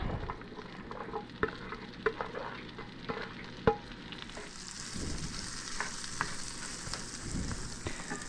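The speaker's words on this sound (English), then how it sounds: "now to the pan, I'm going to add our carrots, which I chopped up already" Chopped carrots, cut on the bias, and leeks sizzle in a pan for a chicken fricassee. A soft, steady frying hiss is broken by a few sharp clicks and stirring knocks, fairly quiet and with no voices.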